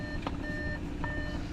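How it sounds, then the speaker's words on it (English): A new Audi S4 gives a warning chime: two short, thin electronic tones, one after the other, faint against a low steady rumble in the cabin. "This thing's beeping at me"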